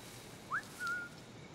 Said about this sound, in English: Whistle to him.